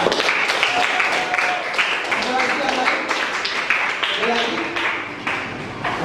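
Classroom applause from students during a lesson, a steady stretch of dense clapping filling the room at moderate loudness with voices mixed in.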